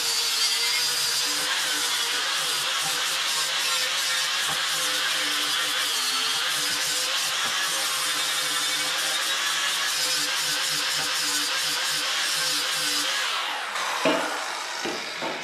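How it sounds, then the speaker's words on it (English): Angle grinder smoothing a weld on a metal ski rail, a loud continuous high-pitched whine and grinding rasp for most of the clip, cutting off near the end. "I'm just gonna grind it smooth now that I weld at the end of it."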